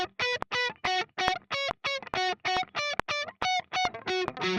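A distorted electric guide guitar picks the accented 16th notes of a lick, giving a row of short, evenly spaced staccato stabs, loud and alone with crisp gaps between hits.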